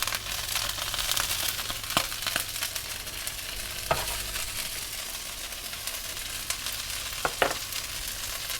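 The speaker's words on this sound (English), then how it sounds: "I'm frying the broccoli until it's just a little bit golden." Broccoli fries in a pan with a steady crackling sizzle, broken by occasional sharp scrapes and clatters as it is stirred.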